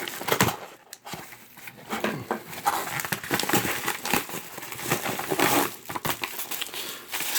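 Green scissors cut open an eBay package with dense crinkling and crackling of plastic wrapping, irregular snips and rustles continuing close and fairly loud throughout.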